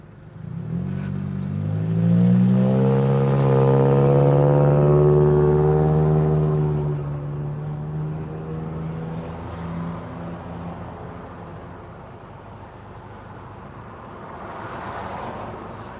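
Car engine revs up and accelerates loudly with a rising whine, then settles into a steady lower drone as the car drives on, with a brief swell near the end.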